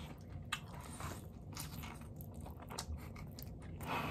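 Someone eats fire noodles and popcorn-like snacks with hard crunchy bites, a string of close, crisp chewing crunches at a steady pace with no talking.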